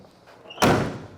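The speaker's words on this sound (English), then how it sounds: "Door shuts nice, one solid thump." A 1971 Pontiac GTO 455 H.O. door swings shut with one solid, loud thump, followed by a short fading rattle.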